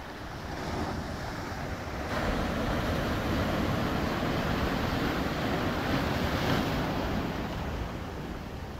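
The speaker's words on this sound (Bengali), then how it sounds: "আজকে ওয়েদারের কারণে ঢেউটা সেই পরিমাণ দিচ্ছে" Sea waves break steadily on Tajpur beach, close by, in a loud continuous wash of surf mixed with wind noise.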